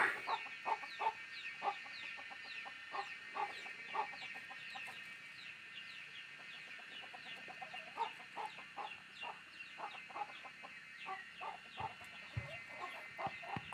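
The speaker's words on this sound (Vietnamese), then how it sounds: "con này là con gà tơ" A young jungle fowl hen clucks steadily in quick, regular bursts throughout, close and moderately loud, with faint chirping birds behind.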